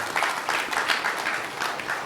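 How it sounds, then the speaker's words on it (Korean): A Rotary Korea gathering's audience claps briefly, a fairly soft patter of hands with a slightly uneven rhythm, heard from a moderate distance. "이런데 박수 한번 쳐주세요"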